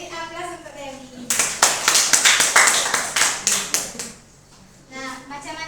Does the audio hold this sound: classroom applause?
yes